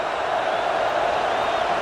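Steady stadium crowd roar from the EA College Football 26 video game, Tennessee against Alabama, a dense continuous wash of noise with no breaks, loud and sustained throughout.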